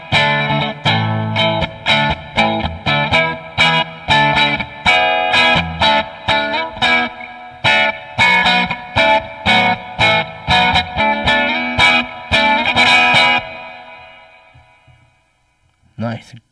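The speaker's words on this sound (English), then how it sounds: "Nice, great echo." Electric guitar played through an echo effect preset, strummed chords in a choppy rhythm with repeats trailing behind, loud and steady for about thirteen seconds before fading out, then a brief final strum.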